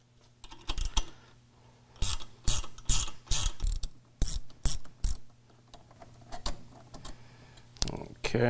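Ratchet wrench removing the steering cable bolt on a Berkeley 12JG jet pump, a series of loud close clicking bursts in quick strokes with pauses between.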